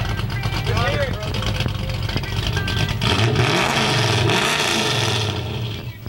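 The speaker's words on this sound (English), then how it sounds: "Rev it up. Let's hear it." A hot rod's engine revs hard through loud exhaust pipes at a car show in Pigeon Forge, a deep throaty roar swelling and falling up close while people talk over it.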